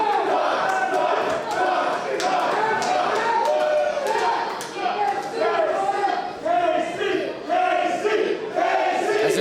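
A wrestling crowd roars and chants behind KC Navarro during his title match against JT Dunn, a loud rising-and-falling swell of cheering voices with a commentator talking over it.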